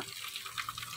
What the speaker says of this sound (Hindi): तो अभी मैं पानी भर लेती हूँ